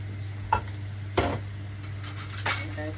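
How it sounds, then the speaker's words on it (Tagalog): Yakisoba noodles are stirred in a hot pan after water is added, with a low sizzle under three distinct scraping clacks of utensils against the pan, close and fairly quiet. "lagyan natin ng 45 ml na water and then mix na natin siya."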